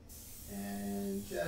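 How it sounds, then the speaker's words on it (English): Airbrush spraying India ink onto paper, fed by a compressor: a short, faint, soft hiss that rises with a brief tonal whine, lasting barely a second and a half. "So how does that compressor sound? Is it nice and quiet, guys?"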